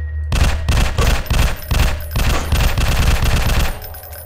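A machine gun fires rapid, continuous bursts in the indie horror game Project X: Lost Memories. The shots are loud, close and heavy with booming lows, with brief gaps between bursts, and the firing tails off near the end. No one speaks.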